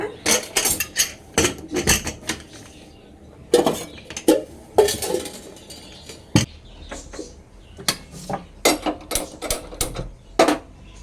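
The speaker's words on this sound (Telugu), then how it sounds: "ఒకసారి ఇంకా లోపు మూత అయితే పెట్టేస్తాను అనమాట" A lid goes onto a metal cooking pot of dal in a home kitchen where a sour green mango dish is being made, giving a series of sharp, close metallic clinks and clanks in an irregular rhythm, with no talking.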